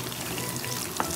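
Mutton frying in hot oil gives a steady, dense sizzle and crackle throughout, close and fairly loud with no voices.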